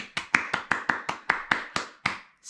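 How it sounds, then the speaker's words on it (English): Steady, evenly spaced hand claps ring out close and alone, about ten in a row, as applause for Matt at a storytime show. "I hope all of my friends at home will join me in giving Matt a big round of applause."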